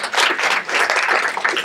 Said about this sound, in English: I think council is due a round of applause for electing ourselves.